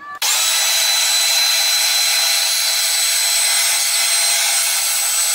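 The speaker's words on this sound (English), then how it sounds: "let's get to the grinder" A grinder starts abruptly and runs at a steady high whine while shaping a metal part for an ATV gauge mount, loud and close throughout, with no talking.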